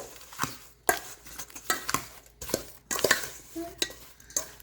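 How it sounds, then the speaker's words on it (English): Sliced apples tossed with sugar and cinnamon for an apple crumb pie filling, stirred in a bowl with a utensil: irregular scraping and clinking strokes, close up, several separate bursts with brief pauses between them. "Now we're going to mix this together."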